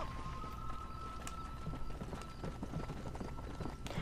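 Galloping horse hooves in the video game Red Dead Redemption, a steady rapid clip-clop running continuously and fairly loud under a game soundscape.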